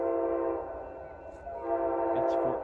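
An Amtrak ALC-42 locomotive passes close by and sounds its horn, a loud steady multi-tone blast over rumbling rail noise, with a brief second toot near the end.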